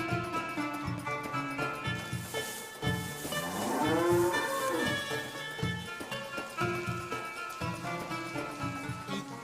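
Cattle moo repeatedly, one long drawn-out bellow rising and falling in the middle, surrounded by rhythmic ticking and background music over the scene.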